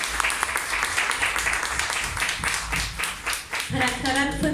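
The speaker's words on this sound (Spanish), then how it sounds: "Un aplauso." An audience at a community meeting claps together in a short burst of moderate applause, and a voice comes in at the end as the clapping fades.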